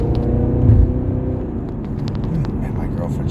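A Cadillac CTS-V drives along with a steady, loud low engine and road rumble that swells briefly, while faint voices are heard inside the car.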